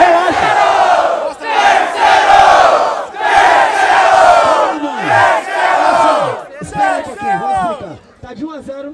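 A crowd at a Brazilian rap battle shouts loud sustained roars in several waves to vote for a side, with a lone voice speaking at the end.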